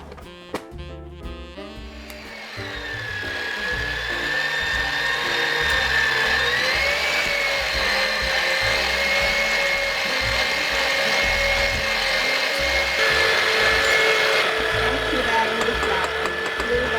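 Electric mixer beating German stollen dough after the last of the flour goes in, a steady loud motor whine that holds for a long stretch, with a brief clatter at the start.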